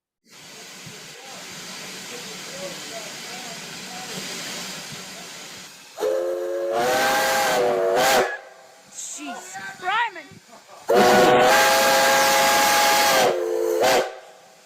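A loud steam locomotive whistle blasts twice with a piercing tone over hissing steam, between them someone speaks briefly and others react.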